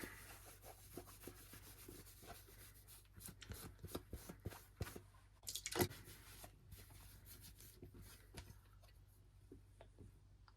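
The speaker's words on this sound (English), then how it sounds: "Put a light scrubbing with the eraser." An eraser scrubs lightly at a Nintendo GameCube part during refurbishing: quiet, close, rapid rubbing strokes in an uneven rhythm, with an occasional louder scrape and no talking.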